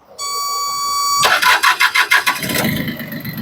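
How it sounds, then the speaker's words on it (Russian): A starter whines briefly, then a Mitsubishi MT1601 mini tractor engine cranks with rapid chugging pulses and catches, settling into a rough running rumble; loud and close. "Вот, собственно, весь запуск."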